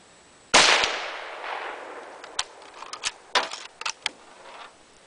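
A 1942 Finnish Mosin-Nagant 91/30 rifle firing 203-grain soft point ammunition from a shooting bench outdoors: one loud, sharp report with a long echoing decay, followed by several metallic bolt clicks and clacks.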